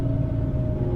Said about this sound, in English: I've never heard a car that sounds quite like this vehicle does on the road